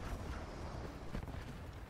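Pulse cannon fire in a Star Wars video game battle with bombers, a dense, continuous barrage of booming blasts and bursts filling the scene with no clear pauses.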